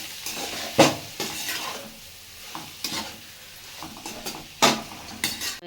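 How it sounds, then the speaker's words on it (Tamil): A spoon stirs and mashes potato masala in a pan, producing irregular scraping strokes and a few sharp knocks against the metal over a soft sizzle, with no one speaking. "நல்லா உடச்சி விட்டு நல்லா கிளறி விட்டுக்கலாம்"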